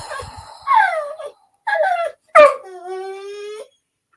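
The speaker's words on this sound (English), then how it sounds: "that's my dog in the background" A dog whimpers and whines in the background, a series of rising and falling high cries and a long drawn-out howl-like whine, fairly close and clear.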